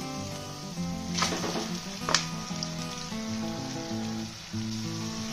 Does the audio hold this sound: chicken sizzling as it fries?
yes